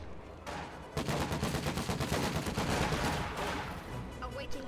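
Light machine gun fire in a real-time strategy game battle, dense rapid bursts of automatic shots rattling almost continuously for several seconds, loud and close, with other gunfire layered in.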